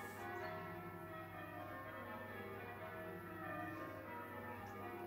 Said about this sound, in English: Oh, there's the bells again.